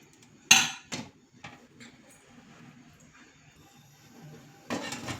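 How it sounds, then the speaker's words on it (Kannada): An idli steamer pot with stacked plates gets covered, giving a sharp metal clang followed by a second, lighter clatter. Softer knocks follow and another rattle comes at the end, close by with no speech. "ಇದನ್ನು ಮುಚ್ಚಿ ಫ್ರೆಂಡ್ಸ್ ನಾನು 20 ನಿಮಿಷ ಬೇಯಿಸ್ತಿದ್ದೀನಿ ಇದನ್ನು"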